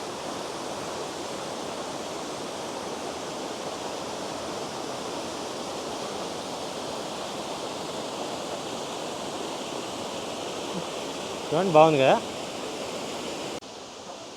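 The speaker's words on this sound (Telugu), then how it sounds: "ఈ కింద వాటర్ ఫాల్ మనం చూసుకున్నాం కదా" A waterfall in Germany's Black Forest roars as a steady broadband rush that fills the whole clip, with a voice speaking briefly over it near the end.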